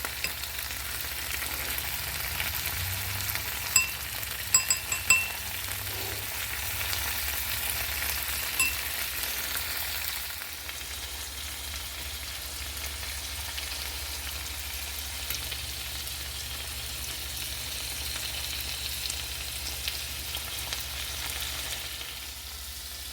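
Pieces of pork bung frying in a pan with sauce give off a steady, even sizzle that lasts throughout, with a few brief clicks and scrapes near the start and no voices.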